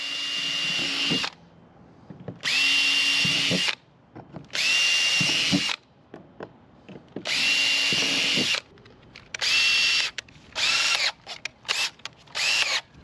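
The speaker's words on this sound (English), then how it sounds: "once you drill this, you're kind of committed" A power drill bores small pilot holes into the rear deck of a Crescent kayak in repeated loud whining bursts, some long and some short, with quiet gaps and small handling clicks in between.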